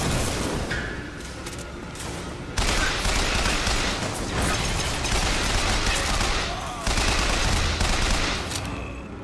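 Repeated gunfire bursts from a weapon in the Bioshock Infinite video game, loud and sustained, with sharp onsets and dense crackling volleys, mixed with game sounds.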